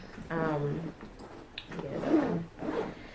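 Zippers run along the panels of a convertible travel bag, three rasping pulls in a row at close range, with short pauses between them.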